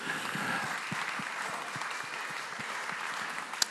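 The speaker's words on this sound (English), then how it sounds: "I'd give them a round of applause for the fantastic work you're doing." An audience at a community media awards event claps steadily, a dense, even round of applause heard at moderate loudness with no voices over it.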